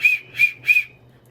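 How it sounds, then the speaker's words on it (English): A raft skipper's whistle gives three short, shrill toots in even rhythm, close and loud, followed by a brief sharp tap. "Alerted by the raft's skipper's whistle."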